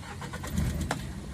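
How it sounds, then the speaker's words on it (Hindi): A Tata Intra V30 BS6 pickup's engine cranks and catches, a short burst of low rumbling turnover close by with no one talking. "गाड़ी को स्टार्ट करते हैं।"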